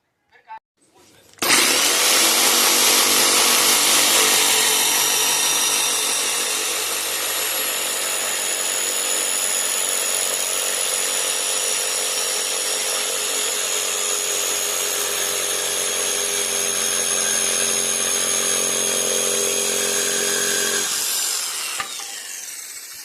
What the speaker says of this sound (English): See if I can cut this with jigsaw